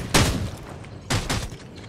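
Two heavy booming blasts about a second apart from bombs going off in Rules of Survival gameplay, loud and punchy with short decaying rumbles, no talk over them.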